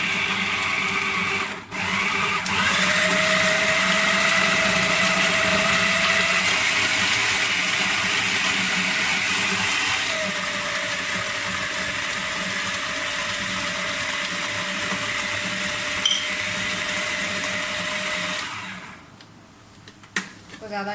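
An electric food chopper whirs steadily as it chops garlic, ginger, onion, coriander and mint, a loud continuous motor drone running about eighteen seconds before cutting off.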